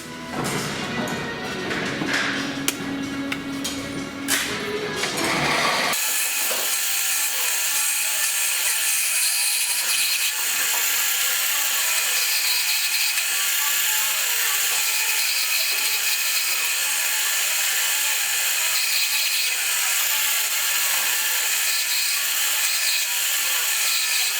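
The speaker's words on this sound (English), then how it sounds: "The bigger drill now, the right side one." A power drill with a larger bit whines loudly and steadily, biting into a metal bar after a few seconds of scraping and knocking while making a model steam engine part, then running continuously to the end.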